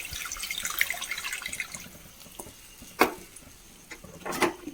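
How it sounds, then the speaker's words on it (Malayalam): Tamarind water is poured into softened tomatoes cooking in a pan for rasam, giving faint liquid splashes and a few sharper sizzling bursts over a low background, with no voices. "ഇനി നമുക്കിതിലേക്ക് കുറച്ച് പുളിവെള്ളം ഒഴിച്ചു കൊടുക്കാം"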